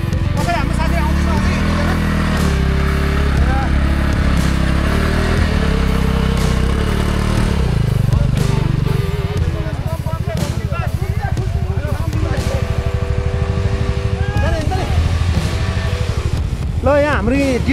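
A KTM Duke motorcycle engine runs on a snowy mountain road near Karpu Danda and Tanting, a steady mid-pitched drone with rising and falling revs. Voices talk over it throughout.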